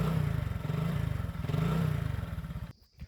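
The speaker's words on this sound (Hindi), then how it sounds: "पीछे से मैं एग्जॉस्ट का भी साउंड आपको सुना दे रहा हूँ, कैसा लग रहा है।" A Hero Super Splendor motorcycle idles from the exhaust, a close, steady, low pulsing putter that runs evenly before cutting off abruptly near the end.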